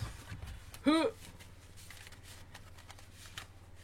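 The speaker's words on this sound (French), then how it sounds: "Si j'arrive à touiller mes cartes." Tarot cards are shuffled by hand, giving soft, faint papery riffling and light ticks, with a short burst of a voice partway through.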